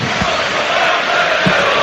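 Football crowd of nearly 26,000 at Carrow Road for Norwich City against Oxford United, a dense roar of chanting and cheering filling the stadium, loud and continuous with a couple of low thumps.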